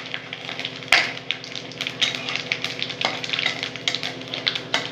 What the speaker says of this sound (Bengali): ফোড়নটা একটু ভাজা ভাজা হয়ে যাবে।